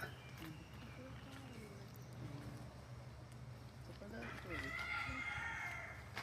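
A rooster crows in the distance among other clucking fowl in a rudraksha tree forest in Hawaii, with someone talking over the background and rustling noise.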